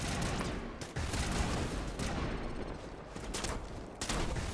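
Dense gunfire in Mass Effect Legendary Edition, continuous loud rattling bursts and explosions filling the whole stretch with only brief dips between volleys.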